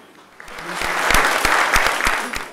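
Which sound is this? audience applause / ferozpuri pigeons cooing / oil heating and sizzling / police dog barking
audience applause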